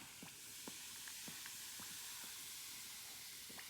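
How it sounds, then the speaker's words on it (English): A vinegar fizzing rainbow reaction gives a faint, steady hiss of bubbling with soft tiny pops scattered throughout, quiet and close with no voices. "I hope you can hear it fizzing"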